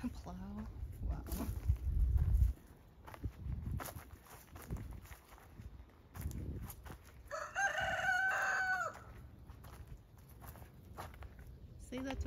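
A rooster crows loudly nearby at a historic pioneer farm in Austin, Texas, one drawn-out call in the middle, amid footsteps, outdoor bustle and people talking.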